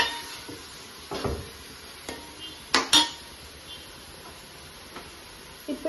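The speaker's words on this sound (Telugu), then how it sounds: "దీన్ని బాగా మిక్స్ చేసుకోవాలి." Chicken fry with gravy is stirred in a pan: a metal spoon scrapes and knocks against the pan in scattered clinks, with two louder clanks midway, over a faint sizzle.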